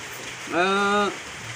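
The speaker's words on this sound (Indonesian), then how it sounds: "Sekarang juga lagi gerimis gitu ya teman-teman." Light drizzling rain makes a soft, steady hiss throughout, with a brief tonal voice-like sound rising over it midway.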